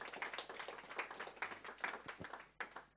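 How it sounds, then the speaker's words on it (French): A small lecture audience claps in scattered, uneven bursts for about three seconds after a public talk on libraries and municipal cultural policy, the sound moderately loud and close, with gaps and individual hand claps standing out. "On peut l'applaudir par rapport à son exposé."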